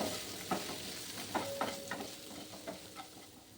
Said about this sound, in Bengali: লবণ হলুদ দিয়ে ভালোভাবে আলু আর পেঁয়াজটাকে ভেজে নিতে হবে